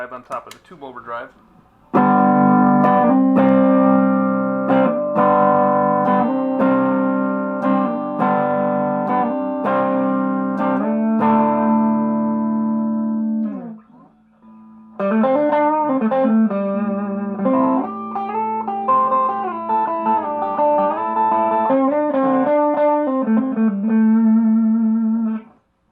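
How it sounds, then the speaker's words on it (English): A Fender Vintera '60s Modified Stratocaster, with an overdrive pedal stacked on a tube overdrive, plays loud, sustained chordal riffs with bends, pauses briefly, then continues with another overdriven phrase. "Let's give it a little overdrive on top of the tube overdrive."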